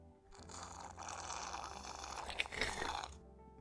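A slurping drink sound effect from the visual novel Chaos;Child, a character sipping grapefruit juice: a close, wet, continuous sucking noise lasting a few seconds with a sharper gulp near the end, heard alone.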